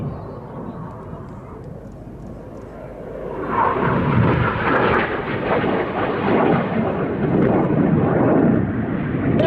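Aerobatic display aircraft roaring through a manoeuvre at an air festival, a distant hum that suddenly swells into a loud, broad engine roar and holds, heard from the ground.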